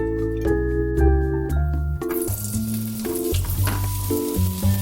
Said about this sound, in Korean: 팬에 식용유 4큰술을 두르고 고구마를 올려주세요